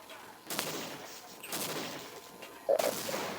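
Gunfire in a horror-adventure video game, heard as three bursts of shots about a second apart, with the last one loudest and sharpest, over a steady background of game noise.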